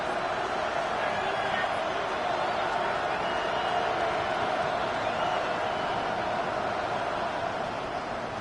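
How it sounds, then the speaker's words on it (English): A dense crowd roars at an NFL game between the Steelers and Jets in a football stadium, a steady, loud wash of noise that holds for several seconds before a third-and-long play. "The crowd cranking it up another notch before 3rd and long."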